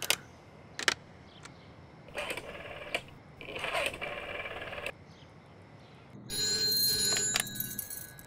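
A telephone rings on an outgoing call, with several short ring bursts spaced by pauses. A longer, louder tone follows near the end.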